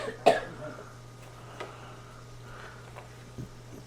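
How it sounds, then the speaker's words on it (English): A woman coughs once, sharp and fairly close, at home in a kitchen, followed by faint throat sounds against a low steady hum. "Janice has got a little bit of a cough"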